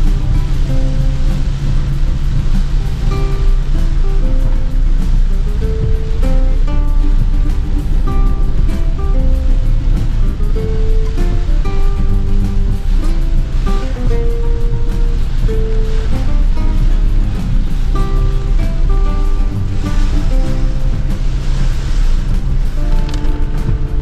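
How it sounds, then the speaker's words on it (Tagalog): Heavy rain pours down in a dense, continuous roar, loud and unbroken throughout, with faint tonal music-like notes running underneath. "sobrang lakas ng ulan"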